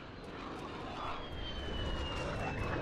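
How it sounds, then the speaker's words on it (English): A VTOL aircraft flying in a video game gives off a steady, faint engine roar that holds constant throughout, with a thin high whine running above it. "Don't tell me Bacon Canadian got a VTOL."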